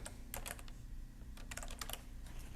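Quick bursts of tapping on a computer keyboard, faint and close, in short irregular clusters of keystrokes with brief pauses between words.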